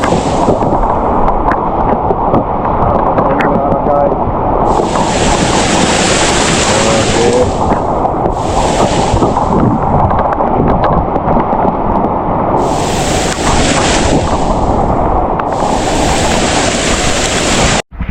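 Strong typhoon wind roars continuously against the microphone while waves surge onto the shore, with repeated bursts of hissing spray and crashing surf, loud and close, with no voices.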